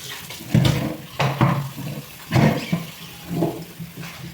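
Water from a tap pours in uneven gushes while dates are being cleaned. It splashes and swells in several surges over a few seconds at close range.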